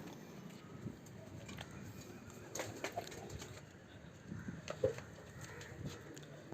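Homing pigeons coo softly near a feeding spot as grain is put out, a faint and distant murmur with scattered light rustles in a quiet outdoor setting.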